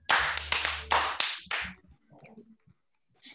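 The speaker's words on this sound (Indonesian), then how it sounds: "tepuk tangan untuk Kakak Chandra dengan Kakak Chandra punya adik-adik" About five sharp, close hand claps ring out in quick succession at a children's Sunday school session. They stop abruptly, leaving faint, scattered low sounds.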